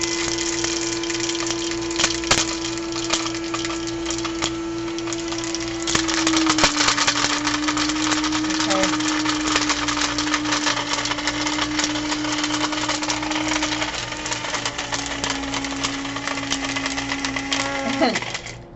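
An electric grinder, starting to leak, runs continuously while grinding supplement powder, a steady motor drone with a slight pitch drop partway through and a near, loud whir throughout.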